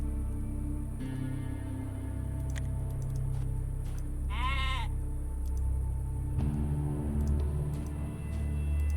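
Sheep bleat in the video game Atom RPG, one clear wavering bleat standing out over a steady game soundscape and low ambient hum, with a few faint clicks.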